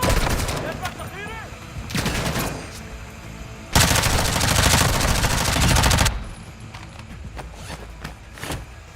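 A machine gun with a 100-round magazine fires in the shooter DMZ: scattered single shots come first, then a loud sustained automatic burst of about two seconds, followed by more sporadic gunfire.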